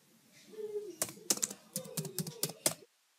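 Quick clusters of crisp key clicks from a computer keyboard as a search is typed, close and fairly quiet with a faint hum underneath.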